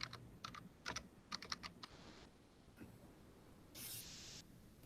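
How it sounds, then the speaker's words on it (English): Someone types a name on a computer keyboard, holding Shift for the capital letter: close, crisp clusters of key clicks in quick bursts, then a short pause and a brief lighter run of keystrokes. "Shift M. Then I type the rest of my name."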